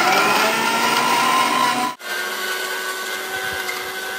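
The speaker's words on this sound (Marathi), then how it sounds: "तर इथं दिसत असेल आता मी मिक्सरला हे भांडं लावलेलं आहे" An Agaro mixer grinder blends apple, chikoo and milk with a loud, steady motor whir. It cuts out briefly about halfway, then resumes at a slightly lower, even drone.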